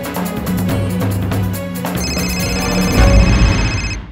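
A telephone rings in repeated electronic bursts, loud and close, layered over a busy musical background without speech.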